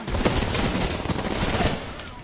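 Video-game gunfire crackles in quick, dense bursts for about two seconds, moderately loud, with a brief quieter tail at the end and no talking over it.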